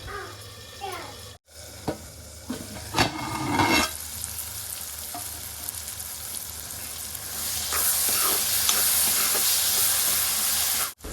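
Chopped tomatoes fry in a pan for vada curry, crackling sizzle with occasional stirring scrapes and clinks, growing into a louder steady hiss in the latter part.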